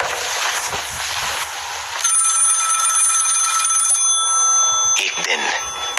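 An old-style telephone bell rings loudly and continuously, a bright sustained metallic trill that starts abruptly after a noisy passage and fades into a brief clatter near the end.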